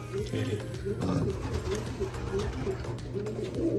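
A racing pigeon cock in a loft coos in soft, rhythmic throaty phrases, close by, over a low steady background hum.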